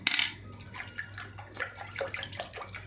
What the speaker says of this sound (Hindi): This is splashing noise.